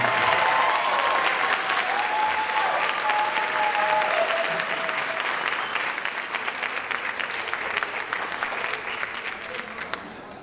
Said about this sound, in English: another round of applause for our MHS?